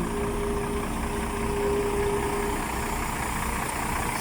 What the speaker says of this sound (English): I am in between a place where there are huge trucks.